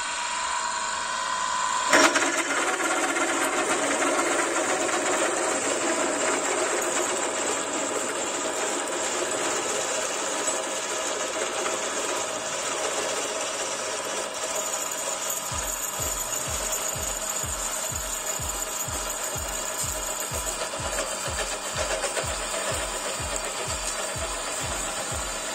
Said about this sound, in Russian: Суровые парни сверлят суровую болванку